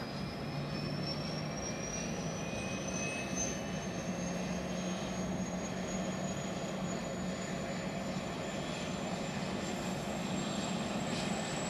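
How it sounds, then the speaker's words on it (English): A plane's engines spool up before takeoff on a departure from Scotland, a steady broadband roar with rising turbine whine held loud and constant throughout. "The engine's starting up."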